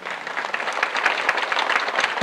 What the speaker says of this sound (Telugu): ఆయన గట్టిగా క్లాప్స్ కొట్టాలి.